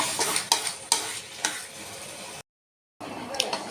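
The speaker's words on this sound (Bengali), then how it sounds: "মাংসটা অনেকক্ষণ ধরে কষাতে হবে।" Goat mutton sizzles in a pan while a utensil stirs and scrapes it in repeated strokes, loud and close, with a brief silent gap before the frying and stirring resume.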